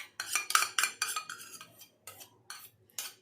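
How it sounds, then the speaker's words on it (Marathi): A spoon scraping and knocking against a bowl while curd is stirred into upvas idli batter, a series of distinct close strokes in an uneven rhythm with short pauses between them. "याला छान मिक्स करून घेऊया"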